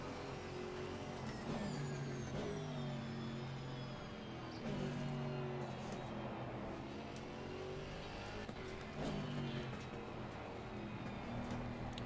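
An Audi GT4 race car engine in Assetto Corsa Competizione at Silverstone drones steadily, with repeated rising revs and gear shifts in a regular cycle, loud and continuous without talk.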